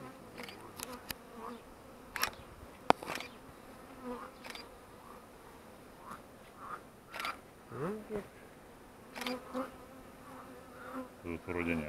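Honeybees buzzing around an opened hive during an inspection, a soft, close hum with individual bees droning past in waves, plus occasional clicks and handling noises.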